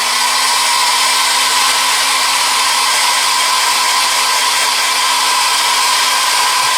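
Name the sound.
hair dryer blowing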